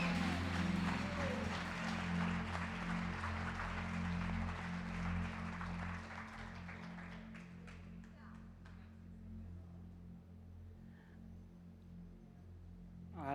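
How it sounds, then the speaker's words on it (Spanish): Church congregation applauding during a testimony night service, a dense wash of clapping that is loud at first and thins out over several seconds, with scattered claps fading under a sustained musical backing. "Dele un fuerte aplauso al Señor."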